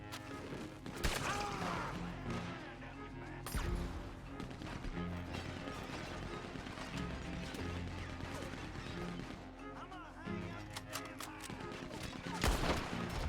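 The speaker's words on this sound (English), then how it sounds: "Where the fuck did the O'Driscolls get a Gatling gun?" Gatling gun fire in the Red Dead Redemption 2 video game, sounding as dense rapid bursts and crashing impacts mixed with other game noise, loud and continuous across the scene.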